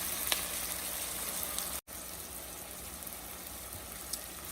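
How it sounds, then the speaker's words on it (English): Onions caramelizing in a pan for French onion soup give a soft, steady sizzle with a brief break midway, quiet and close with no voices. "you can see that the onions are starting to caramelize now, and they'll be really beautiful in about 12 more"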